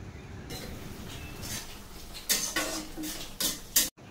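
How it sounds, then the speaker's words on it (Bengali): Apples simmer in about half a bowl of water in a cooking pot for a quick apple chutney, giving a steady bubbling hiss broken by several sharp clinks and scrapes of a utensil against the pot. No one speaks. "আপেলটা দেখো সিদ্ধ হচ্ছে।"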